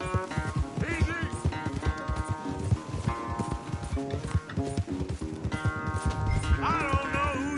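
A horse galloping in the Red Dead Redemption 2 video game, steady rapid hoofbeats mixed with game music and other effects.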